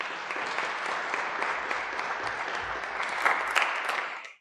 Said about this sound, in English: if you guys would be so gracious to just give them an applause.